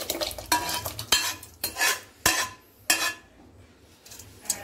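Cooked lentils are stirred into rice in a metal pot for Tirunelveli-style kootanchoru, with sharp, irregular scrapes and clanks of a spoon against the vessel over a soft background sizzle.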